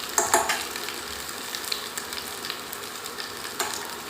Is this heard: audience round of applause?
no